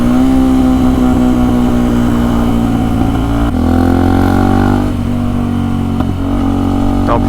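Motorcycle engine running in traffic beside a car, a steady loud harmonic drone with rising and falling revs and a sharper throttle shift midway, close and continuous with no talk.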